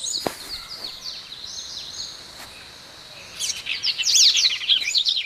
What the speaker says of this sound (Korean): 브라질에서 새소리를 녹음한 건데요.